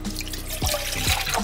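Water splashes and trickles from a tap into a pot for making Maggi noodles, with a few distinct drips over a brief, close-up run of running water.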